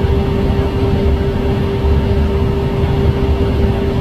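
A Boeing Vertol 107 tandem-rotor helicopter runs at an airport in Davao, its engines producing a loud, steady droning whine with a constant pitched hum and continuous rotor rumble, uninterrupted by voices.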